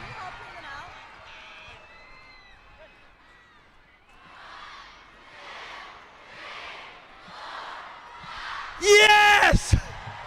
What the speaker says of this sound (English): Columbus, you gotta cheer louder than that